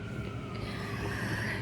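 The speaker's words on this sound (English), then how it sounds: "this is the Bronx, so it's mostly police sirens" A police siren wails in the Bronx, a continuous urban emergency siren that stays at a steady moderate level through the short stretch without anyone talking.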